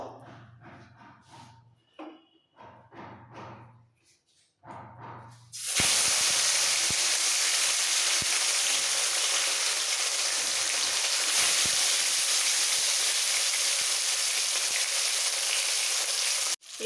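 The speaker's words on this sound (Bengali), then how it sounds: "তেল ভালোভাবে গরম হয়ে গেছে এবার নুন হলুদ মাখানো মাছগুলো এই তেলের মধ্যে দিয়ে দেবো" Fish rubbed with salt and turmeric hits hot oil and bursts into a loud, steady sizzle that holds for about ten seconds, after a few quiet moments of talk and small kitchen noises.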